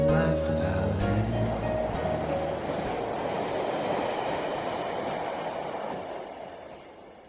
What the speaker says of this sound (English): All aboard the night train.